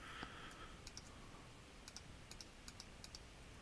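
Mouse clicks while retouching facial blemishes with the healing brush in Photoshop: a series of faint, sharp clicks at irregular intervals, close by, over a soft background hiss with no talking.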